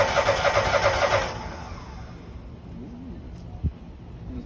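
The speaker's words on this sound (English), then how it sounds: "our water valve is off. We're ready to start the engine." A Spartan Tool hydro-jet engine cranks with a loud, rapid starter whir that cuts off after a second or so, leaving a low, quieter rumble with a short knock near the end.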